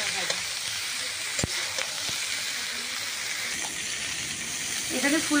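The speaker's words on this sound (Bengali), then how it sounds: "এইবার কিন্তু আমি ফুলকপিগুলো ভেজে নেব।" Purple cauliflower pieces fry in hot oil in a pan, making a steady, close sizzle with a few sharp clinks of a utensil stirring.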